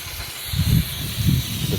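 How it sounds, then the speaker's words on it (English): A small handheld steamer hisses steadily while steaming off tinted film from a car window on a hot day, with a soft continuous hiss and two low rumbling swells. "I'm going to show you how I do it with a steamer"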